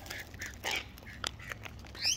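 A pet cockatoo perched on a person's hand gives a few short, sharp squawks, with the loudest, shrill burst at the end, while the owner talks softly nearby.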